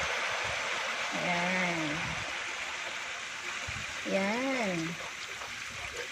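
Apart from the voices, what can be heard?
coconut milk poured into cooking chicken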